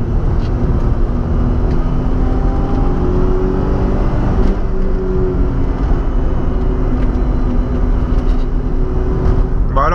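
Ford Probe V6 car on a road, heard from inside as a steady, loud drone of engine and road rumble that holds evenly the whole time with no pauses.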